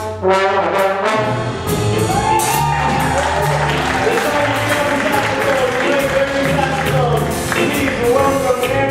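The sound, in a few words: audience applause for the trombone section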